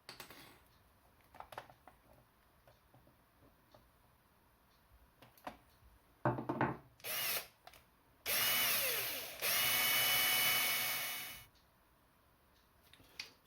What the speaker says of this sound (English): So I drilled that hole